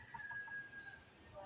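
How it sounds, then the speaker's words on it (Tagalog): Chickens at a chicken coop cluck in a few short, quick bursts, faint and at some distance, over a steady background hum, with no talking. "Tapos doon may manukan guys."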